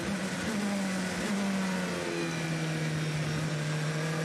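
A race car at the 24 Hours of Le Mans endurance race goes by loudly with a steady engine drone, its pitch sliding down as it passes, and there is no talk over it.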